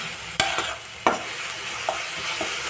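Green chillies with a little dried chilli frying in hot oil for a spicy rohu fish curry, a steady close sizzle broken by two sharp stirring clatters and a few softer scrapes, with no voices.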